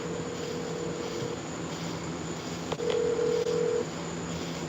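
A telephone rings in a room with a steady electronic tone that sounds in two long bursts separated by a pause, moderately loud over a constant background hum, with no voices.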